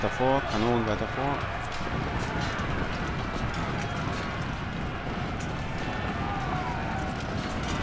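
Troops on the march in the Civil War strategy game Ultimate General: Civil War, a dense, continuous rumble of many footfalls with hoof-like clopping. A voice speaks briefly at the start.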